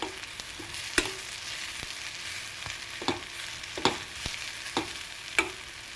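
Sliced onion palya cooks with salt in a pan, a soft frying sizzle under irregular scraping and knocking of a spoon stirring, about half a dozen distinct clinks spread across the stretch, with no one talking.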